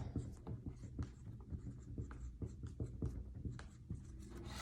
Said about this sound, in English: I'm going to use my blue marker for this one, and I'm going to write at the top